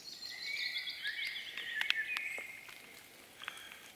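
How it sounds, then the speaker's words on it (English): Birds chirp and sing in a quiet forest in Sweden, with bright high whistles and short calls overlapping, fairly faint and steady, a few sharper notes standing out. "It's so fun to hear the birds sing."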